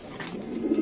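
A young 2025-banded racing pigeon gives a short, close coo, one soft rising call.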